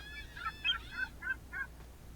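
Seagulls near a lighthouse on a virtual beach in the game Second Life give a quick series of faint, nasal honking cries that trail off into quiet, with no talking.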